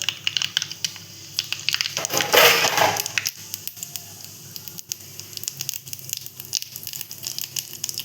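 Cumin seeds hit hot oil with a sudden loud sizzling burst that fades into scattered crackles and pops.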